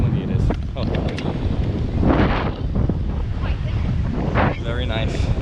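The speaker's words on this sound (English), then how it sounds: "A lot of wind, a lot of waves." Strong wind buffets the microphone on a beach, with waves surging and crashing in a continuous, loud roar; voices talk intermittently over the gusts.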